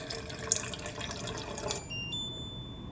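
Room-temperature water pours from a touch-operated water dispenser in a faint, steady stream that cuts off abruptly partway through, leaving quiet.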